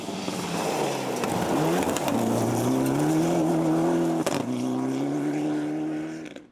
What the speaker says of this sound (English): ny Leonard rounded off the overall top 10 as he tackled his home stages in the Mitsubishi Evo 6.